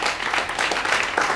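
A crowd applauding at a memorial vigil in Achern for Japan produces dense, steady clapping that holds at an even level from start to finish, with no voices over it.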